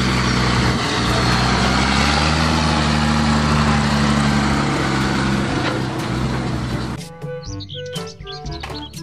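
A tractor engine drones steadily and loudly for about seven seconds with a low humming buzz, then gives way to bright chirpy electronic tones near the end.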